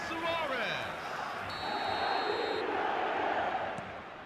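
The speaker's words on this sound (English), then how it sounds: "the crowd level has gone up a notch or 10" Stadium crowd in an eFootball match roars after a Barcelona goal, a broad, sustained wash of cheering filling the clip, with faint ringing tones and a commentator's voice partly audible beneath.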